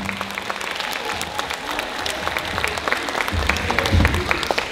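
An audience applauds performers leaving the stage, a steady wash of clapping with some low crowd murmur and rumble near the end.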